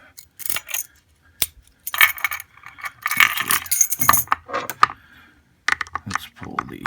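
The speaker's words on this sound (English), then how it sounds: "we're going to lock it back up because we have the key" Keys jingle and metal clicks as an ASSA Twin Combi lock is turned and locked with its key, close and bursty over about seven seconds with brief pauses between rattles.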